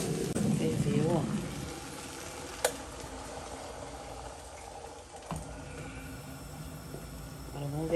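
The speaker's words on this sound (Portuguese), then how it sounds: "Eu estou fervendo água aqui na kettle." Water boiling in a kettle while cooking baião de dois gives a steady close hiss and bubbling. It fades slightly midway, with a couple of sharp clicks and someone talking over it at the start.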